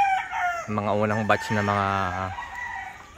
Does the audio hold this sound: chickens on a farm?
yes